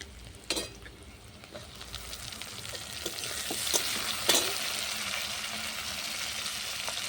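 Chopped tomato hits hot oil in a pan over a clay stove and is stirred, giving a continuous near sizzle that swells midway, with several sharp spoon scrapes and knocks against the pan.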